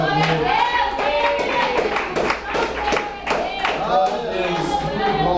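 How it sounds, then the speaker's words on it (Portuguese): A Pentecostal church congregation claps hands together in worship, loud sharp claps blending into a crowd-like rhythm, with singing or voices running through the clapping. "Vamos glorificar o Senhor com as palmas no nome de Jesus."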